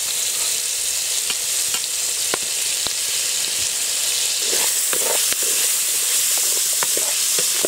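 Onion, tomato and turmeric fry in a pan, giving a continuous close sizzle and hiss with repeated spoon clicks and scrapes as the mix is stirred, and no one speaks.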